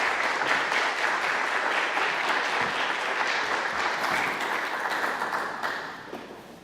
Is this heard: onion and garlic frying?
no